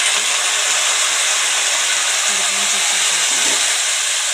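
Crushed garlic and green chillies sizzling while frying in a pan, a loud, steady, close hiss that barely changes, with a faint voice in the background.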